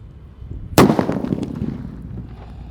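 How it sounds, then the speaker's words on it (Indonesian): A paper-wrapped firecracker explodes outdoors in one sharp, loud bang, followed by crackling debris and a fading rumble, with no talk. "di sini ada mercon buntelan kertas ukuran yang ketiga guys, yang akan kita nyalakan sore ini"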